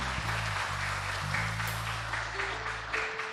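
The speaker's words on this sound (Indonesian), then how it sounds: "Mari kita beri tepuk tangan." Applause from a church congregation at a Sunday evening Toraja worship service, a steady wash of clapping heard alone over a low sustained organ or keyboard tone.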